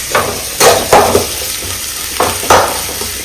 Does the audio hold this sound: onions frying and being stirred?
yes